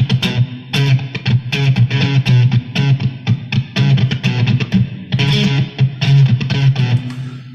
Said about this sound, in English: I just put in a really hard gate to where it just kind of lets the signal through just a little bit